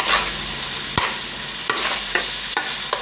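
Ingredients frying in a pan for chicken fried rice give a loud, continuous sizzle, broken by several sharp clinks and scrapes from a spatula stirring against the pan.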